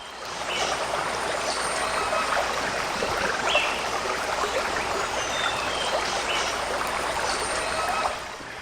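Rainforest stream flows steadily with a continuous trickling rush, close and even, with faint bird calls over the water.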